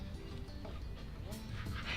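A dog whimpers and yips close by in a room, short high cries over a low background hum, with a person speaking at times.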